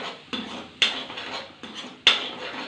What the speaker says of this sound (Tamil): ரெண்டு முட்டையை உடச்சி ஊற்றிட்டு அதை நல்லா கிண்டி விட்டுறோம்.